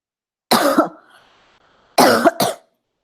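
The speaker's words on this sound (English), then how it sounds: "Sorry, I'm having like a small cough." Two bouts of coughing from a single nearby person, a short burst followed about a second and a half later by a double cough, loud and alone with no talk over it.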